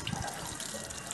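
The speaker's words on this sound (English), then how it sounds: "So the water comes and you wash your hand very well." Water running from the tap of a solar-powered hand washing machine, a short close steady gush and splatter.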